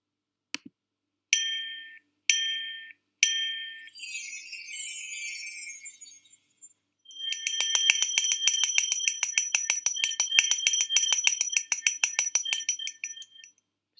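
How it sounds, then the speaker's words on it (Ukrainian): A school's last-bell ceremony for a ninth-grade class: a bell rings in three short bursts, then a long run of rapid, bright, pulsing rings that fades out, with no talk. "ну і от нарешті звучить останній дзвоник"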